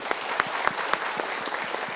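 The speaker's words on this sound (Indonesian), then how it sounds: "kita berikan tepuk tangan" Audience applause in an Indonesian motivational talk-show studio, a dense burst of many hands clapping close and steady with sharp individual claps standing out, no talk over it.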